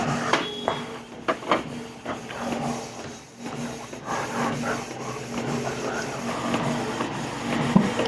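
A printer running a print job of waterproof vinyl labels for water bottles: intermittent mechanical whirring, clicks and feed noises with a faint steady hum between, fairly quiet and close, no talking.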